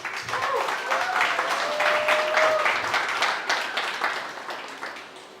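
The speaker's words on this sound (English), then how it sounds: "give them another round of applause." Audience round of applause for conference speakers at a startup accelerator event in Beijing, steady dense clapping filling the room for several seconds before tapering off, with a faint voice underneath.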